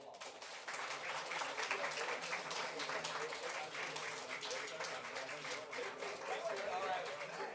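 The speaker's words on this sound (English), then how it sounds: "let's give them a nice round of applause" Applause at a city council meeting: a small crowd claps in quick, distinct strikes that start abruptly and keep up a steady patter, fairly faint and distant, with voices talking underneath.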